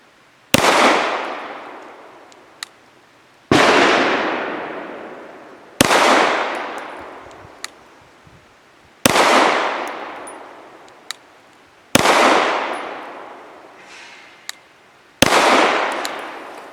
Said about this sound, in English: Now for 5 shots from 7 yards using Nosler 115 grain match.